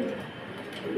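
A silver-coloured Lahori male pigeon gives a low, soft throaty coo close by, a single short rolling call.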